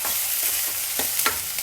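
Stirring and light sizzling as chopped tomatoes go into onions softened in a frying pan, with faint scraping strokes over a steady low fry, no talk.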